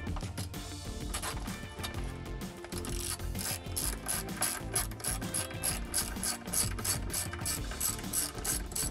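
Rapid clicking of a ratchet removing screws inside a Jeep Wrangler JL runs throughout, dense and mechanical, with rubbing, grinding texture underneath and no voices.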